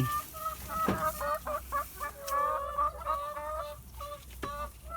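A flock of farm hens being fed fruit scraps, clucking and cackling continuously close by, several birds calling over one another in busy overlapping bursts.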